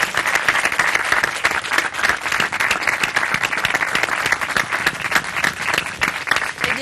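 A live audience at a televised interview event bursts into loud, sustained applause, dense hand clapping filling the room evenly for several seconds.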